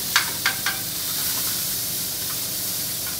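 Vegetables sizzle steadily as they brown in a hot pan for a Mediterranean cod dish, a close, continuous hiss with a few sharp crackles near the start.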